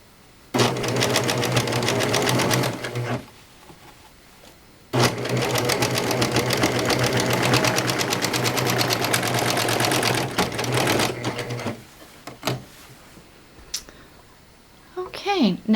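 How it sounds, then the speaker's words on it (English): A serger sewing machine stitches a pillow in two long bursts of fast, even mechanical whirring, each starting and stopping abruptly, followed by a few quieter handling clicks and thumps. "And now I'll finish sewing that off."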